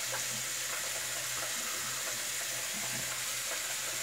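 Tap water runs steadily into a sink beside a shaving setup, a constant close broadband rush without any talking.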